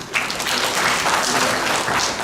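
Audience applause fills a hall after a startup elevator pitch at an investors' summit, a dense, steady burst of many hands clapping close by, with no voices.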